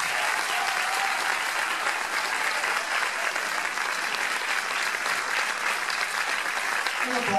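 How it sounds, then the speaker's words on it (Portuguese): Audience applause after a performance by a school band, steady dense clapping from a sizable crowd filling the whole stretch at an even level, without speech. "um aplauso para eles, primeiro."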